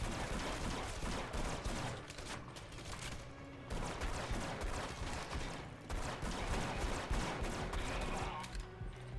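Loud, continuous gunfire and explosive blasts from the video game Red Faction Guerrilla, with shotgun shots mixed into dense, chaotic combat noise that runs without pause and has no talking.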